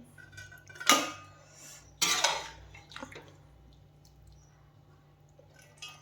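Cooked meat curry being ladled into a pot in a home kitchen, two sharp metallic clanks of spoon against cookware with a softer scrape afterward, no voices.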